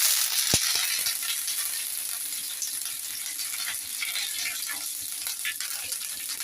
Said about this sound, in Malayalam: എണ്ണ ചൂടായി, കറിവേപ്പില ഇടാം.